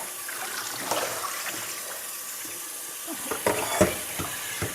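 Rutabagas being lifted out of water and moved across a sink, with steady sloshing and several sharper splashes and knocks clustered near the end.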